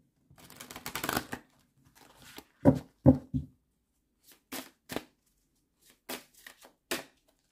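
Oracle cards being shuffled by hand, a soft riffling flutter followed by several separate crisp slaps and snaps of cards, close and quiet with gaps of silence between.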